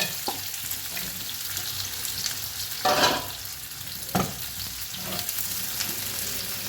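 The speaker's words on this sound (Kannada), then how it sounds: "ಈಗ ಈ ಬೆಂಡೆಯನ್ನು ಹಸಿ ವಾಸನೆ ಹೋಗೋವರೆಗೆ ನಾವು ಫ್ರೈ ಮಾಡುವ." Okra (lady finger) with cumin frying in a pan, a steady close sizzle throughout with a few louder bursts of spatter and stirring clatter, no voices.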